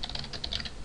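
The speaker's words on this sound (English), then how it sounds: "So I'm going to go ahead and type import" Rapid, steady keystrokes on a computer keyboard while code is typed, a continuous run of close, crisp clicks over a faint background hum.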